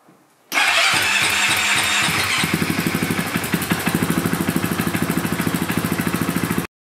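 Rebuilt KTM 500 EXC-F motorcycle engine cranking and firing up, a starter whir catching into a close, loud single-cylinder idle with a fast, even thumping pulse.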